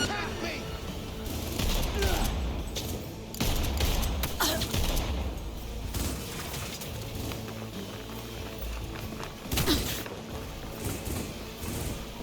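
Gunfire in the video game Cyberpunk 2077 crackles in dense bursts within an artificial forest setting, with repeated volleys and booms layered over a busy background mix.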